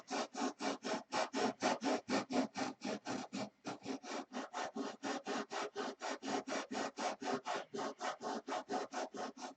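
Rhythmic back-and-forth strokes of sandpaper worked by hand over a wooden compound curve, about three rasping passes a second, close and steady with a brief pause midway.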